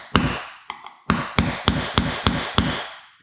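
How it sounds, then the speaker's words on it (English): Eight sharp metallic blows of a strike-through hammer on a punch during rust repair and bay-window windscreen removal on a vehicle, spaced irregularly at first then in a steady rhythm, close and loud, each ringing briefly. "This is a strike through hammer."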